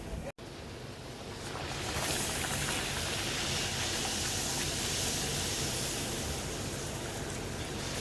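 Puris frying in hot oil: a steady, dense sizzling hiss that swells after a brief start and stays loud and continuous throughout, with no talk.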